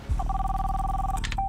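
A telephone rings for an incoming call, a single sustained electronic ring tone lasting about a second, fairly faint, followed by a short burst of another tone.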